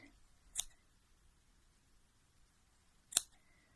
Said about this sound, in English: grab the scissors. I'm going to just snip through all these loops